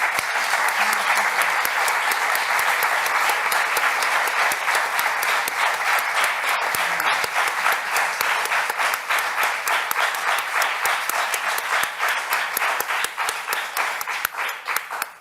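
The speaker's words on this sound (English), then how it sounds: "it's right that the applause should be sustained" Sustained, dense audience applause at a family support research session in Europe, steady and loud throughout with a continuous wash of many hands clapping.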